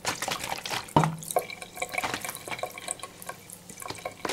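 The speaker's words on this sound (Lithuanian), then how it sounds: "Paskui gal nuplausim šviežių vandeniu." Running tap water splashes into a toilet-room sink being rinsed after cleaning with Coca-Cola, a steady trickling stream with scattered drips and small knocks, fairly close and moderately quiet.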